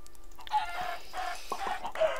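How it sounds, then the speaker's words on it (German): Minecraft chickens clucking, several short close clucks in quick succession over a quiet background. "Es tut in der Seele weh, hier alle Hühner abzuschlachten."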